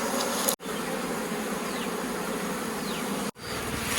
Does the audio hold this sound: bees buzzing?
yes